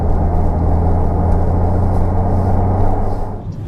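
Steady interior road noise from a Porsche 981 Boxster on the move, a constant low engine hum and tyre rumble at even loudness with no speech.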